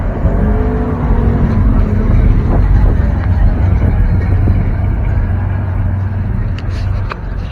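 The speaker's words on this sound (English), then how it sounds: "Two-wheel drive Blazer." A two-wheel drive Chevrolet Blazer truck drives at a C10 Nationals show in Texas, its engine a steady, loud low rumble throughout, with faint crowd voices and background noise.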